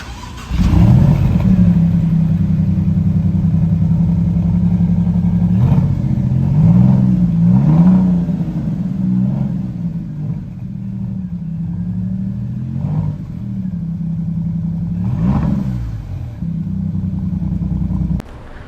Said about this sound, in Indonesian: Ini enggak, ini benar-benar kayak mesin turbo V6 banget.